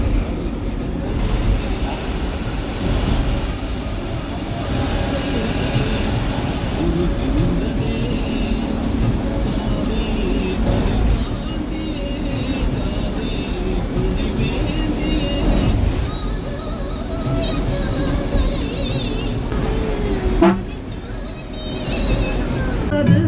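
Steady interior rumble of a TNSTC government bus cruising at about 70-75 km/h on a Tamil Nadu route, a continuous low engine and road drone with rattles and wind noise and no break in level.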